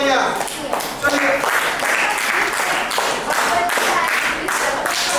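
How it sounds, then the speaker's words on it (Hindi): Loud, dense applause from a group of children at a cultural values camp, steady clapping filling several seconds with some voices mixed in. "इनके लिए जोरदार तालियां"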